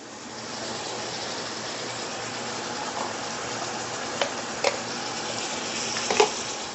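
Chopped onions, carrots and celery sizzling in a pan with browned beef and pork for a Bolognese, a steady moderate hiss with a few brief clanks of a utensil near the end.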